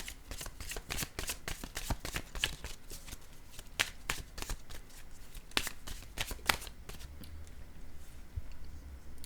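Tarot cards are shuffled by hand, a quick rapid patter of riffling and slapping cards running steadily and close, quiet, with no talking.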